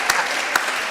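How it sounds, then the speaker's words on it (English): At a women political leaders summit session, an audience claps in a brief steady burst of massed hands, with a couple of sharper claps standing out. "We are the ones clapping for you"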